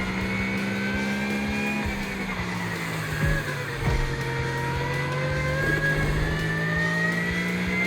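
A car in The Crew Motorfest racing game holds a steady, loud engine drone with gear shifts and rising revs, close and continuous, with no talk over it.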